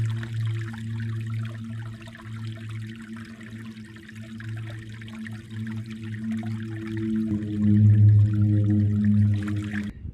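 Water trickles steadily from a small source along a hiking trail on the Appalachian Trail near Harriman, a continuous close burble that swells slightly louder toward the end.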